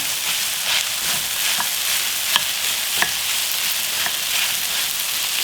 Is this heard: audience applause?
no